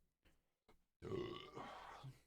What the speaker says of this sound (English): I had to burp so freaking bad in that outro.